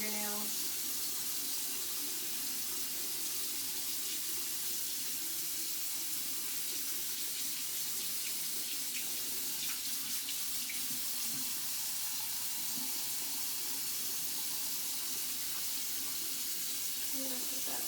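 Running sink faucet water with a brush scrubbing hands and under fingernails during a microbiology hand-washing lab, a steady close stream with faint scrubbing textures throughout.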